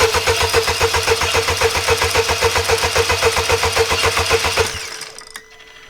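A Subaru BRZ engine cranks with a rapid, even chugging rhythm for about five seconds to prime a newly fitted turbo with oil, then stops. It is loud and close, with no talk.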